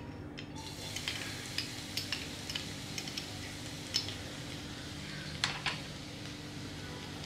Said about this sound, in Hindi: हम इसे 10 से 20 सेकंड तक फ्राई कर लेंगे।